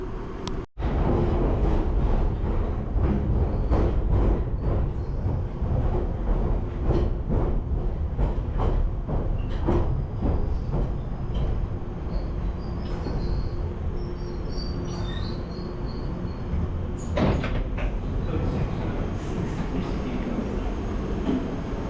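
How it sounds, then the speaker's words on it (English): A loud London Underground Piccadilly line train rumbles into the King's Cross platform with rhythmic clicking and clattering, steady roar filling the platform, a squeal of brakes near the end. "I thought the train was coming. I could hear it."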